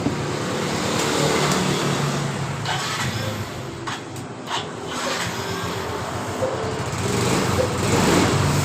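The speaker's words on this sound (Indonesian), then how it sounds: "Jadi motor hidup dengan normal" A Yamaha Mio scooter engine idles steadily after starting, a close, continuous motor drone with slight rises in revving, running alone without speech.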